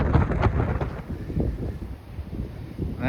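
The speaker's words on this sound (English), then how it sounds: "That rain came in very quickly." Strong wind gusts buffet the microphone in a constant roar, with a heavy, rumbling sudden rainstorm of rain and wind all around.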